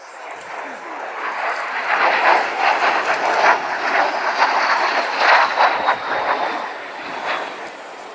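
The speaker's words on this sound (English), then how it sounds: "This aircraft really does come from the era of man sits on jet and holds on tight." Vintage Russian-designed jet aircraft from the Norwegian Air Force Historical Squadron flying at the RAF Cosford air show in 2016, a loud, sustained roaring jet noise that swells and holds steady throughout, with some faint crowd murmur underneath.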